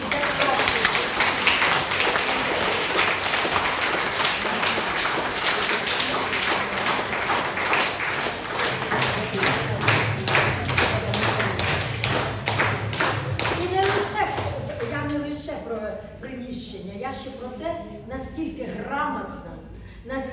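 Audience applause at a Ukrainian gathering honoring older people: sustained dense clapping that fills the room for about fifteen seconds, then thins into scattered claps as voices begin to come through.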